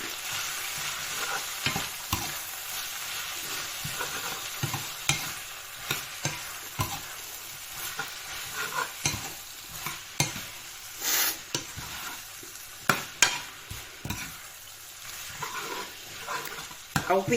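Glass noodles stir-fry in a hot pan with a steady sizzle, while a spatula scrapes and clatters against the metal in quick irregular strokes, close and fairly quiet.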